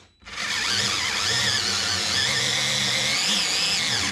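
A Dewalt gyroscopic screwdriver running, with a loud, steady, high motor whine and a slight wavering in pitch, held continuously for about four seconds at close range.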